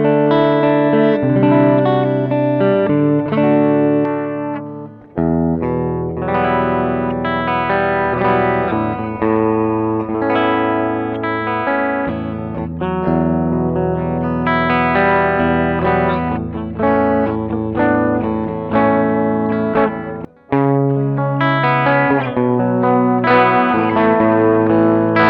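Clean electric guitar played through a JOYO American Sound Fender-style amp modeling pedal with drive turned all the way down, ringing chords and notes held steady at close range for the whole stretch, with two brief pauses.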